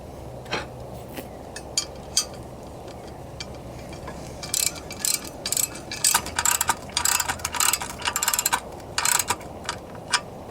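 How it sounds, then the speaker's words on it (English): A ratchet tightens a bolt on an AR-500 steel target mount fastened over a 2x4, its clicks coming as scattered strokes at first and then dense, rapid bursts close up, with no talking. "Once you tighten this bolt down, it's going to hold to the wood itself."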